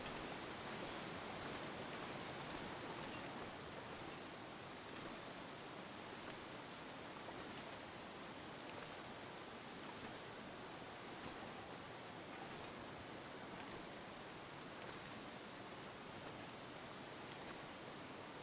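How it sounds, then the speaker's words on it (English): Steady broadband rushing of a waterfall in the video game The Long Dark, a constant, even roar with faint intermittent ticks, heard alone with no talking. "Maybe that was just the waterfall sounds or something."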